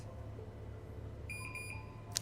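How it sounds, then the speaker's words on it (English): Repeated electronic alarm beeps from the video game Final Fantasy VII Remake, a short run of steady tones over a constant low background hum, fairly faint. "Alarm, Yes. alarm."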